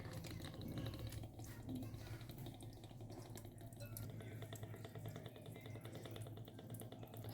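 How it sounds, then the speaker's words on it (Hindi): Water is poured onto halim seeds in a bowl to soak them, a faint, steady trickle and splash of liquid that continues for several seconds without talk. "तो अभी जो पानी है ना, इसमें डाल देते हैं।"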